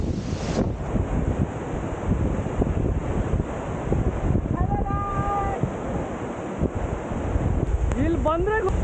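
Hebbe Falls roars as a constant dense rush of pounding water, heard from a distance with wind buffeting the microphone, while people talk over it.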